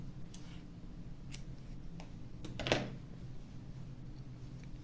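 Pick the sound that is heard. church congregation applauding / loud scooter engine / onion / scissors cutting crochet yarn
scissors cutting crochet yarn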